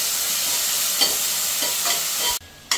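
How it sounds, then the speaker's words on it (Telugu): Continuous close sizzling from frying in ghee for chicken biryani, with a few stirring scrapes before a brief drop and a return of the hiss. "నేతిలో కొద్దిగా ఫ్రై అయ్యింది."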